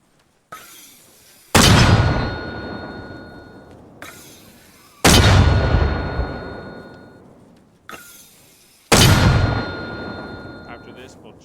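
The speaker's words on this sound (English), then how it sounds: "So what now we're going to do is indirect fire 3 times." Three mortar rounds fired in the video game Arma Reforger, each a heavy booming launch roughly three seconds apart with a long ringing decay, preceded by a softer click or thud.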